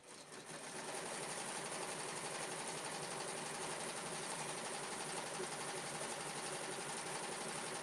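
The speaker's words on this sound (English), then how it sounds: "And then I'll go ahead and stitch that down." Embroidery machine stitching batting down onto a bookmark project, a steady fast needle chatter that runs evenly and continuously at close range after a brief start-up, with no talking.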